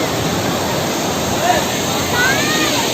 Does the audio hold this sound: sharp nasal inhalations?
no